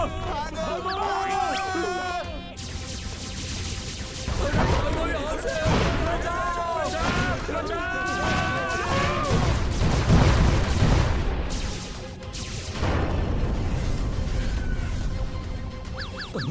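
A cartoon spaceship attack with bursts of gunfire, crashes and booms, loud and dense, mixed with excited shouting voices.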